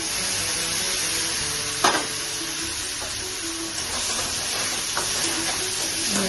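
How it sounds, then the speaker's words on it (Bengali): Ginger paste dropped into onions already frying in a pan for a Bengali lemon rohu fish curry, giving a steady close sizzle with a brief louder hiss burst as it hits the oil and light stirring scrapes. "পেঁয়াজগুলোকে ফ্রাই করে এখন আমি আদা পেস্ট করে রেখেছি, আদাটা দিচ্ছি।"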